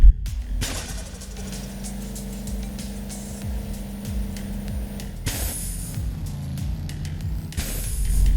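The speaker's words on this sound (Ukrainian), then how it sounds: "пропоную вам насолодитися новими звуками автомобілів" Video game car engine sounds: engine hum runs steadily under sharp hissing bursts like air brakes, with a low droning tone holding for several seconds.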